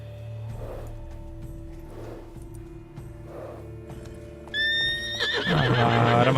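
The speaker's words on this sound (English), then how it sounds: "Ahora me va a tocar correr detrás de caballo." A horse in The Witcher 3 video game whinnies several times, with soft hoof clip-clops and low ambient game music running underneath, and a louder, rising neigh bursts in near the end.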